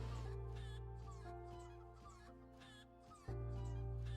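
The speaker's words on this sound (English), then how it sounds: "Jesus, this chicken, man. You hear that chicken?" Chickens in the video game Dungeon Defenders Awakened cluck in short, repeated bursts over a steady electronic hum, continuing without pause, with no talk over them.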